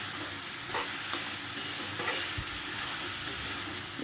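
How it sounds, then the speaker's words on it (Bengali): Boiled soybean chunks fry in a pan over medium flame, a soft, even sizzle with occasional stirring scrapes and a few light knocks, fairly quiet and close. "একটু ভালো করে ভেজে নেব"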